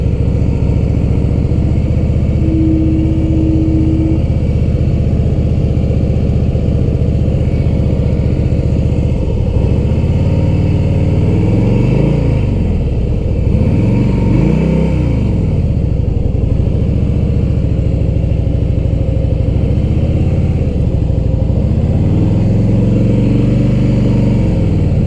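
A motorcycle engine runs loud and close during slow-speed riding practice, with a steady low drone and gentle rises and falls in revs as the throttle is eased on and off.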